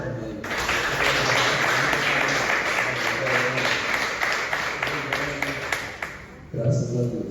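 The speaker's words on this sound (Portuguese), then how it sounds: "Vamos aplaudir o Senhor bem forte?" A church congregation claps loudly and steadily in a garage worship service. The thick, sustained applause fills the room for several seconds before stopping abruptly.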